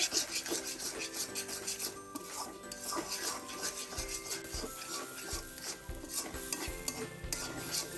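Mashed taro flower and shrimp with mustard oil is stirred in a pan, giving quiet rubbing and scraping strokes with occasional low knocks of the utensil, faint and close, partly under a speaking voice.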